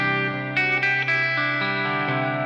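Electric guitar through a Les Paul neck pickup with the tone knob pulled up for an out-of-phase sound, heard through a Rat distortion pedal as a string of thick, sustained, effected notes and chords, played alone.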